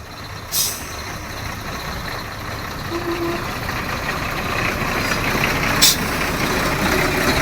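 Trucks and other vehicles pulling away near a wild elephant, a steady rumbling engine drone rising slightly over several seconds with two sharp hissing air-brake bursts standing out.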